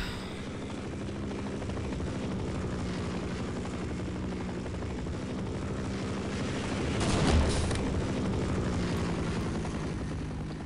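Helicopter in the video game Half-Life, a continuous chopping rotor drone with bursts of gunfire-like crackle, swelling briefly louder partway through.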